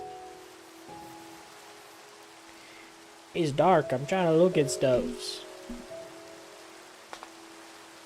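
Steady rain falls in the video game Minecraft, a soft continuous hiss throughout, with a person speaking briefly partway through over the constant patter.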